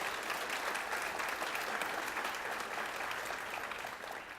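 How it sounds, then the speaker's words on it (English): An audience at a State of the City address in Roseville, California applauds council members, a dense, sustained round of clapping that holds steady and then begins to taper off. "Let's give them a round of applause."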